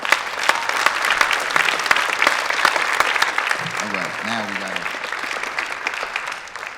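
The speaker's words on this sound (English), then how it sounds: "So let's give them a round of applause." Warm, sustained audience applause follows a music performance at an evening festival ceremony, while a speaker talks briefly over the clapping.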